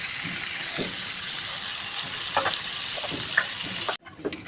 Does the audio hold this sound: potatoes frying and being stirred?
yes